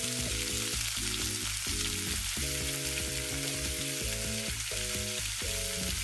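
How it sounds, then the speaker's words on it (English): Steady, loud sizzling of a burger patty frying in a non-stick pan, a continuous crackling hiss with a low musical hum underneath. "We'll just let that sizzle so we can get some nice char marks."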